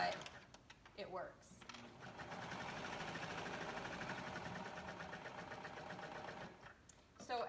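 Sewing machine stitching neck binding on a V-neck dress with twin needles, a steady fast mechanical whirr running for several seconds between brief pauses, close and fairly quiet.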